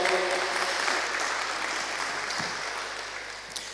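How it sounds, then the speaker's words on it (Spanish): A church congregation applauds during a sermon, steady broadband clapping that slowly fades over a few seconds, with a faint murmur beneath. "Exacto, un fuerte aplauso."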